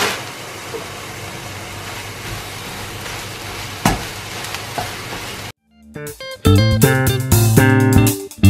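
Kale for a Nigerian efo riro vegetable soup hits a hot frying pot and is stirred, giving a loud, steady sizzle and hiss for about five seconds before it cuts off and a different, tonal sound takes over.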